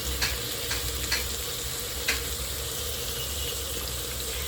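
Green chillies sauté in hot oil in a single pot, giving a steady low sizzle with a few soft scrapes and clicks of stirring, close and fairly quiet with no talking.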